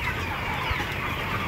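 Chickens in a dimly lit poultry laying house give soft, continuous clucking under a steady, dense background hum, with no voices.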